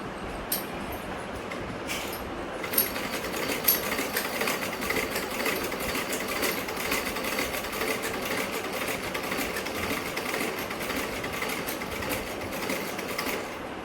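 A sewing machine stitching clothes after light oiling and threading, its motor running steadily with a fast mechanical clatter throughout, close and continuous with no talk.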